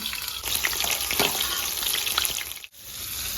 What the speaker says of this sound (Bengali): তেলটা গরম হয়ে গেছে, আমি বেগুনটা দিয়ে দেবো,